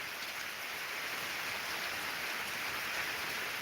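Steady rain pours down outdoors in a peaceful morning setting, a dense, even hiss of drops on surfaces with no voices, holding constant and fairly close throughout.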